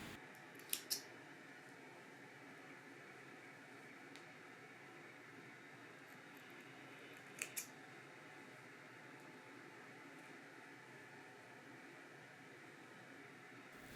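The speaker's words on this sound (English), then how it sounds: "Cut away the waste yarn." Scissors snipping waste yarn off a machine-knitted mitten: two quick faint double snips, one near the start and one later, over a quiet room hum.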